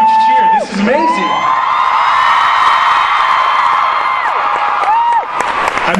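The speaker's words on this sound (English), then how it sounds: "One more huge cheer." A convention crowd at a Supernatural fan event roars with sustained cheering, whoops and applause, loud and close, swelling steadily for several seconds with a few individual yells standing out.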